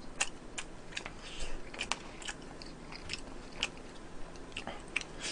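Salty bacon eaten over white rice, heard as close, crisp crunchy bites and wet chewing in an irregular rhythm, fairly quiet, with no talking.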